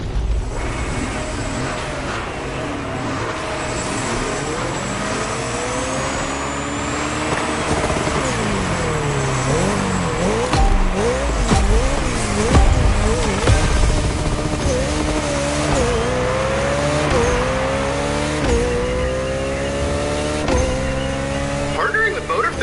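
A Koenigsegg Jesko hypercar in The Crew Motorfest racing game, its engine revving up and down in steady sweeping pitches with gear changes, loud and continuous, with faint voices in the background.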